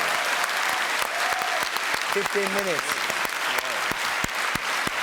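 A studio audience at a French TV variety show claps steadily, dense and close, while a few people speak and call out briefly over the applause.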